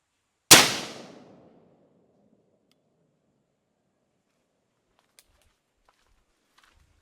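A single sharp gunshot from a .223 Remington rifle fitted with a blast jacket, loud and close, with a short echoing decay into near silence and a few faint clicks afterward.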